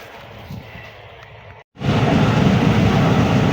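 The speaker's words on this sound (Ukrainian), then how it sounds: "вид з комбайна, обороти вітру, барабана" A combine harvester working a sunflower field drones from inside the cab, a dense mechanical roar with rattling and wind noise that cuts out for a moment before returning louder and steady.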